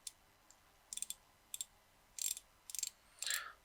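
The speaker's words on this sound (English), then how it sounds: "don't try to impress anyone by the bezel click because it's not very smooth" The bezel of a BINBOND B930 Yacht Master homage watch is turned in short bursts of small, dry ratcheting clicks, quiet and close, with pauses between turns and no talk.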